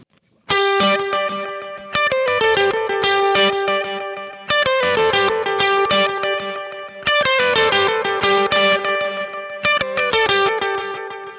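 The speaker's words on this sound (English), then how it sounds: "you can hear more space in this delay" Distorted electric guitar plays a chugging riff through a Kemper with the delay placed before the amplifier, each strike trailed by repeating echoes that fill the gaps with a spacious, washy tail.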